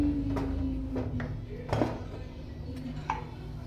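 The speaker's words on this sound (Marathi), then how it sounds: "मी आता कुकर खोलते।" Metallic clinks and a clatter as a pressure cooker lid is twisted and lifted off after cooking pav bhaji vegetables, over a low kitchen hum.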